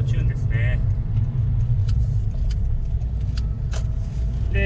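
Honda Integra Type R DC5, a late model with TEIN coilovers and light tuning, heard from inside on a test drive: steady low engine and road rumble throughout, with someone talking over it.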